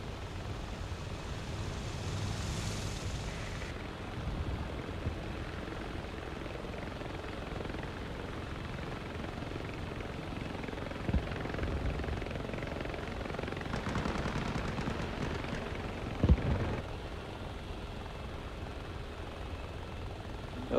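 Z-11 helicopter flying in a military video game set in Fallujah, steady close rotor and engine drone throughout, with distant gunfire bursts and a sharp thump near the end, no talking.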